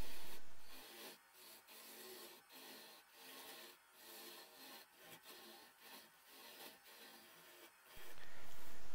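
A small piece of wenge, a Central African hardwood, is worked on a lathe for a tea light candle holder, with repeated scraping and rubbing passes in an uneven rhythm, heard close with no talking.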